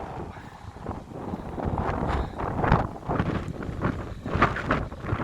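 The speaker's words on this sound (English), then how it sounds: "Not felt it because it's so windy." Strong wind buffets the microphone outdoors on a windy Friday, a loud continuous roar with gusts swelling and easing throughout, no voices present.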